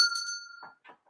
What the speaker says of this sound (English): I'm actually going to ring the bell.